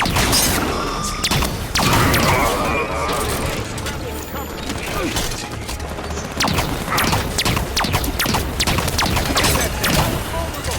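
Sustained gunfire in Halo 5: Guardians, loud rapid shots and mechanical clanks crowding together with impacts and crashes, ongoing throughout, with voices breaking in over the battle.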